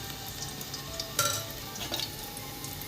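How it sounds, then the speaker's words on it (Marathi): Ginger garlic paste sizzles and crackles steadily in hot oil for aloo dum biryani, a soft, even fry with a few light clinks of a spoon against the pan. "ती थोडीशी आपल्याला अशी फ्राय करायची आहे।"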